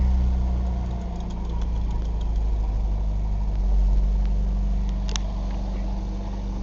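A 1991 Chevrolet S10 engine settles into a steady idle just after a cold start, giving a continuous close low rumble with a slight uneven knock and no voices.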